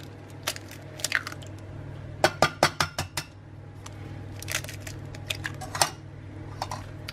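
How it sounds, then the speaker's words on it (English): Eggs are whisked into gluten-free chocolate chip muffin batter, with a whisk clinking against a bowl in irregular bursts and a quick run of sharp rhythmic taps mid-way, close and moderately loud. "we'll whisk it through till we've got a nice smooth mixture here"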